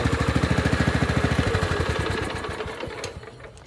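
A Project LT1000 lawn tractor's small engine idles steadily after its surging was fixed, running with an even, rapid putter close by and tapering slightly toward the end.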